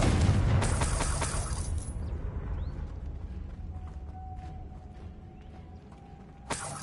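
A Confringo blasting spell goes off in the Hogwarts Legacy video game as a loud, close burst at the start, then fades into a rumbling, rattling tail and a quieter ambience with a faint tone, ending on a brief sharp hit.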